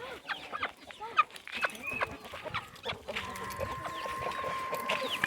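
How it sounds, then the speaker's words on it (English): Backyard chickens, with larger birds in the flock, clucking and squawking near and far in irregular bursts, with a few short goose-like honks and light noise from the run. "you see that they do quite well with the larger chickens"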